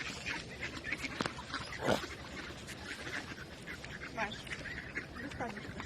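Ducks quack repeatedly while being fed by the water near swans. Short scattered calls rise above a busy background, and people talk throughout.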